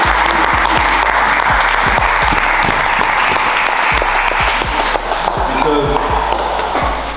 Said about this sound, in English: I'll give applause to Coach Will.